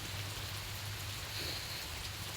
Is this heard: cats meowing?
no